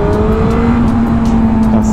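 Suzuki GSX-R motorcycle pulling away in second gear, a loud steady engine note climbing slightly in pitch amid wind noise.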